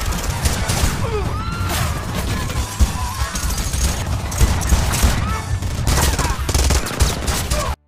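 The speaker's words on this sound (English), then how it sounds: "after a fierce shootout, Chelios managed to overcome them" Dense, continuous gunfire from a fierce movie shootout between a man and a Mexican mafia group, bursts and single shots packed together with loud crashes, forming a steady barrage that fills the whole stretch.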